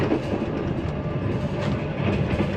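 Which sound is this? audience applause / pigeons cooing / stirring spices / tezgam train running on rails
tezgam train running on rails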